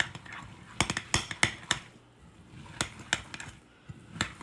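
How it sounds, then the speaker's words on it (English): Potato salad with mayonnaise being stirred in a bowl, a series of sharp spoon clinks and scrapes against the bowl arriving in irregular clusters with short pauses, close and fairly quiet with no talk. "Now, I'm going to start stirring that stuff up."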